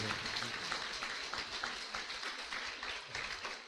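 A church congregation clapping hands in praise during a revival service, a fairly faint, continuous patter of many hands with no clear beat.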